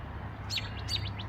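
Two quick bursts of high, twittering bird chirps over a low, steady background hum.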